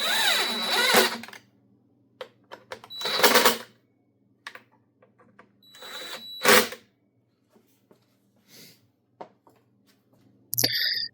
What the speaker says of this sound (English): And now you can tighten down the front ones all the way.